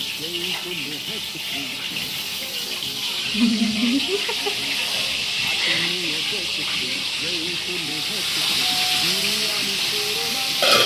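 Potatoes frying in oil in a home kitchen pan give a steady broad sizzling hiss that runs throughout, with people talking over it nearby.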